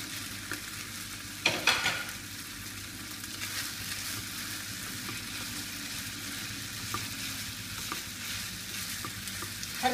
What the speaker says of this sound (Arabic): حركو مزيان باش العناصر تدخل مع بعضياتها وتنسجم.